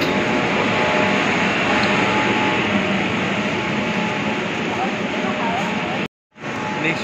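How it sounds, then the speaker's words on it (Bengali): A metro train runs through a tunnel beneath the Ganga river, a loud, close, continuous roar and rumble that holds steady before cutting off abruptly near the end. "এইবার আবার যাচ্ছি আরেকটা মেট্রো ধরবো"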